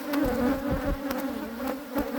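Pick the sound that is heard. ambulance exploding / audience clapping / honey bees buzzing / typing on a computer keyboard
honey bees buzzing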